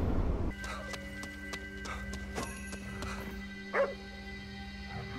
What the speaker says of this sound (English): Bro, stop barking.